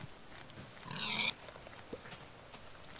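A pig in Minecraft gives a single short squeal, followed by faint scattered game noises.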